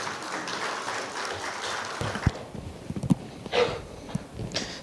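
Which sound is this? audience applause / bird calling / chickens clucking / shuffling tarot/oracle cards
audience applause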